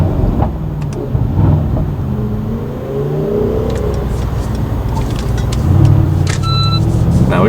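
Lamborghini Huracan STO driving through London streets, a constant loud engine drone with gear changes and revving swells, heard from up close inside the car with traffic around and no one speaking.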